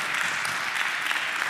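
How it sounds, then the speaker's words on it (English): Steady, dense applause from an audience at an author's book talk in an Atlanta bookstore, a continuous wash of many hands clapping close by with no pauses. "Let's give him a round of applause."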